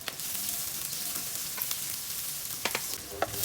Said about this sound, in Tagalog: Una ay nagpainit muna ako ng kawali at naglagay na rin ako ng mantika. At mag-i-start na rin akong maggisa.